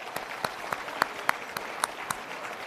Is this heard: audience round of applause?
yes